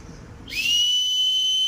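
A child blows a whistle, which starts midway and holds one loud, steady shrill tone up close until the end.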